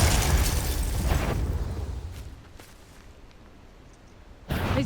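A Confringo fire spell from Hogwarts Legacy on Nintendo Switch bursts in a loud, booming explosion that rumbles and fades over a couple of seconds, then a second sharp blast erupts near the end.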